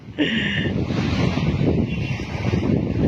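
Sea waves washing onto a beach, a steady broadband wash with wind buffeting the microphone, loud and continuous throughout with no talking.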